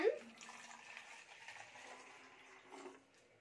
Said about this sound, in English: So now shall we check how many glasses can we pour in this water bottle?